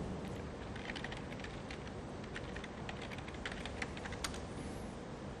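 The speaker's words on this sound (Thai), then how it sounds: "เดี๋ยวขอแป๊บหนึ่งนะครับพิมพ์ password" Password typed on a computer keyboard during a Windows Server 2008 R2 demonstration, a faint, steady patter of quick key clicks under a constant background hiss.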